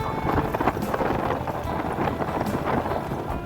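Steady wind buffets the microphone outdoors on a rural road between Laotian villages, a continuous rumbling roar with no speech.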